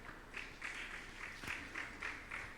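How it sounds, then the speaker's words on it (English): Light, sparse applause at a bank-sponsored youth competition show, individual claps audible in a faint, uneven patter over a few seconds. "I think they need a better round of applause than that."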